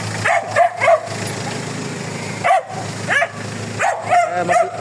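A dog barks in short bursts, a few quick yaps, then pauses, then more barks, fairly close over a steady background hum.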